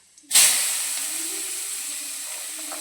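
Chopped onion hitting a hot oiled pan with spices for pav bhaji, a sudden loud sizzle bursting in and then hissing steadily and close, fading only slightly.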